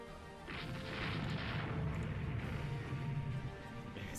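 Naval shell hits from 6-inch guns striking a light cruiser in the Rule the Waves 2 game, a rumbling burst of booms and crashes that swells and lingers for a few seconds, fairly faint and heard without voices.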